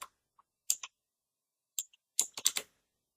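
Quiet, close keystrokes on a computer keyboard, with a few isolated clicks followed by a quick cluster of taps near the end and silence in between.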